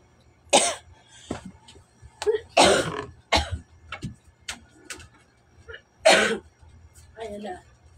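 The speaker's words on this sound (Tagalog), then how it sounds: "Sumusumpong na yung ubo ko." A person coughs and clears their throat in a string of sharp, close bursts scattered across the stretch, separated by brief quiet gaps and a few short vocal sounds.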